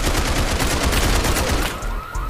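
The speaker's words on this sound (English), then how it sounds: "I'm hip firing this guy." Continuous rapid gunfire from hip-firing a gun in the Roblox game Criminality, a loud, dense stream of shots that runs almost the whole time and breaks off briefly near the end.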